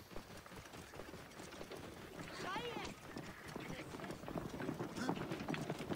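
A pony gallops in Assassin's Creed Origins with a steady rhythmic clatter of hooves under game music and ambience, while someone talks over it.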